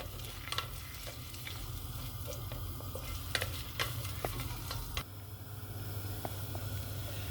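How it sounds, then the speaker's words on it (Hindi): Finely chopped onions frying in a pan for a Kashmiri mixed lentil dish, a steady close sizzle with scattered stirring scrapes and clicks and no talking. "अब हम ऑनियन को जो है वो फ्राई कर लेंगे।"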